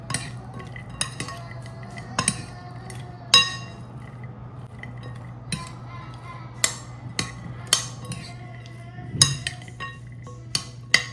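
A metal utensil stirs pork sisig in a pan with scattered clinks and scrapes at an uneven rhythm, close and fairly quiet under a low steady hum.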